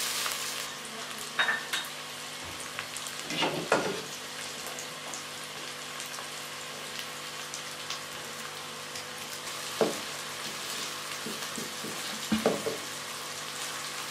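Chopped red tomatoes and green chilies cooking with browned onions in a pan for a Pakistani yogurt fish and peas curry, a continuous close sizzle with occasional scraping and stirring clatters.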